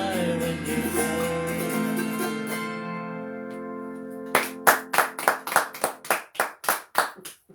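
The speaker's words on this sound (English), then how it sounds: "Thunderous applause." Sustained concert music rings out and fades, then a small group breaks into a few seconds of crisp, evenly paced handclaps, close and clear.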